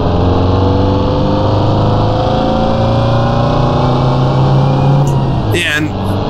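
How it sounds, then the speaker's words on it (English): Mini Cooper driven in Assetto Corsa along a Wicklow Mountains road: a steady, loud engine drone with a thin, high whine running through it, continuous throughout with a brief clicking flutter near the end. "And besides that whine, I actually quite like the sound of the car."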